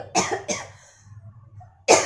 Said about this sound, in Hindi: मुझे इतनी गंदी खांसी हो गई ना, सूखी खांसी